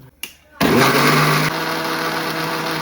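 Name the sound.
mixer grinder blending cooked lentils and greens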